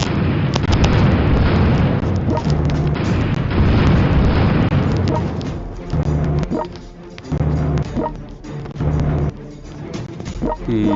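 Explosions and artillery fire in the strategy game World Conqueror 4, a loud, dense run of booms and bursts, then separate repeated blasts with short gaps.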